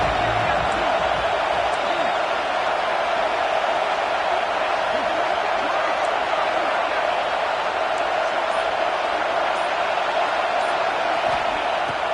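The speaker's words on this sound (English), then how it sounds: "Crowd getting behind this defense as they try to get a stop in the red zone." Steady stadium crowd roar from a college football video game as the defense tries for a red-zone stop, a continuous loud wash of cheering under ongoing commentary.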